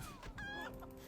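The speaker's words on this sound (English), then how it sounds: "You're gonna die, chickens!" Chickens cluck in World of Warcraft's vanilla-era game world, a short burst of close, busy clucking with a brief higher call over steady background game sound.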